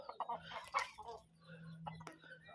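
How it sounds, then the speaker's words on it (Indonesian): Farmyard chickens cluck and squawk at close range, waiting to be fed. The calls come in uneven bursts with a steady low hum underneath. "Mergo iki wayah pitike njaluk mangan pemirsa."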